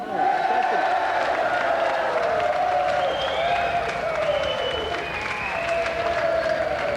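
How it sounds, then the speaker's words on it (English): A television game show studio audience applauds and cheers, dense sustained clapping with whoops and rising tonal cheers running loud and steady for about seven seconds. "And another round of applause for Pat and Emily Cash."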